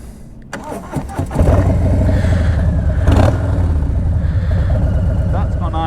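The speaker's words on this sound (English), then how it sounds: "Idle sounds absolutely fantastic. It's with this 114 engine on the big twin. It's got a real nice throaty sound to it." A 2020 Harley-Davidson Low Rider S with the 114 big-twin engine and TBR 2-into-1 pipes fires up and settles into a loud, deep, throaty idle close by.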